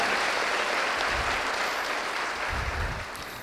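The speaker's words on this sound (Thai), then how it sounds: "ขอเสียงปรบมือต้อนรับ" Seminar audience applauding to welcome a speaker to the stage, a steady close wash of clapping that gradually thins toward the end.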